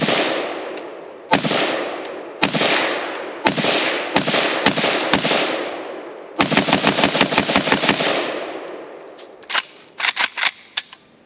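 A Polish PAC Pioneer AKM sporter rifle fires with a cracked Tapco magazine outdoors, loud sharp shots echoing off, first spaced single rounds, then a rapid string of quick shots, then a few more scattered ones.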